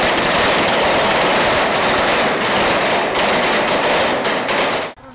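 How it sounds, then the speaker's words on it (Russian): Pyrotechnic gunfire and blasts in a staged police special-forces assault on a residential building, a loud dense barrage of rapid cracks and booms that cuts off abruptly at the end. "выстрелы и взрывы – всего лишь работа пиротехников"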